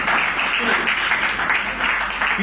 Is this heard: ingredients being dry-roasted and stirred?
no